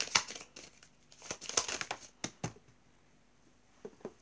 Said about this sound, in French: Je vais retirer 3 cartes